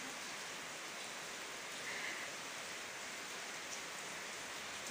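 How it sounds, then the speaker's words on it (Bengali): Steady monsoon rain falls outside a Bengali village home, a dense, even hiss of drops on surfaces that holds without a break and has no voices over it. "বাইরে তো ভালোই বৃষ্টি পড়ছে"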